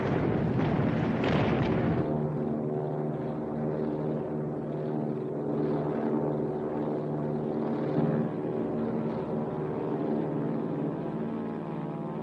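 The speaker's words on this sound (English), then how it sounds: "First to come upon Nagumo's strike force are the 15 Devastator torpedo bombers from the Hornet" Dense, roaring engine drone of wartime torpedo bombers closing on a naval strike force, a burst of blasts at the start, then a steady loud rumble with droning tones throughout.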